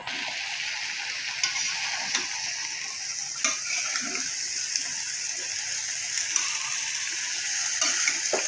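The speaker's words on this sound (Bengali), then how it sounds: "এখন আমি ভালোভাবে নাড়াচাড়া করে নেব" Winter vegetables with dried fish sizzle in a pan while a utensil scrapes and stirs, with occasional clicks and knocks against the pan over a steady frying hiss.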